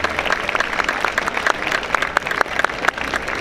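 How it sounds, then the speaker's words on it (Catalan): Moderate applause from a crowd at an outdoor political rally in Reus, a steady patter of many hands with distinct sharp claps standing out, fairly distant and without speech. "Per tant, un aplaudiment per elles."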